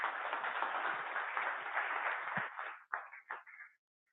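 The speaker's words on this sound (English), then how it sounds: "another round of applause," A crowd at a Python meetup applauds in a dense burst that thins into a few scattered final claps before falling silent.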